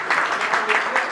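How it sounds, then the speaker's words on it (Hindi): Audience clapping at a Digambar Jain temple Shanti Vidhan event, a short burst of steady applause that fills the whole moment under a faint crowd murmur. "ये एक बार इसके लिए जोरदार ताली बजाओ।"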